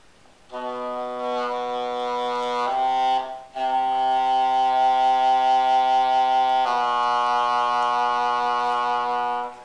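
A bass oboe sustains a low solo note with rich, reedy harmonics, holding steadily with one brief break partway through before the tone resumes and carries on alone.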